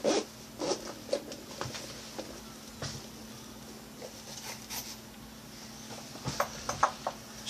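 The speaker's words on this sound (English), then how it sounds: "Has a double zipper." A double zipper on a fabric-coated hard shell storage case for playing cards, pulled in several quick, close rasping runs, with a brief burst at the start and a cluster near the end over quiet background.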